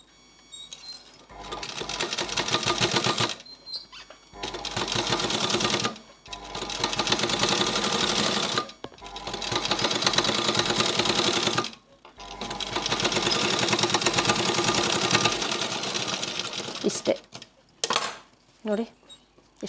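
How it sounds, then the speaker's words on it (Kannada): A sewing machine stitches thread piping onto a blouse in long loud runs of rapid mechanical whirring and needle clatter, each burst stopping abruptly with brief pauses between, the final runs short and choppy. "ಈಗ ನೋಡಿ ನಾನು ಸುಮ್ಮನೆ ಹಂಗೆ ಹೊಲ್ಕೊಂಡು ಹೋಗ್ತೀನಿ"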